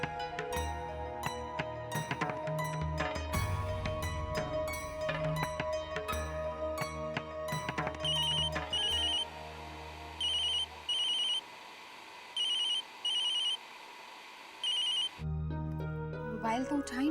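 A mobile phone rings unanswered in a Hindi TV drama household, its electronic ringtone repeating in regular bursts over a music-filled background, with people talking before the ringing settles into clear repeated rings.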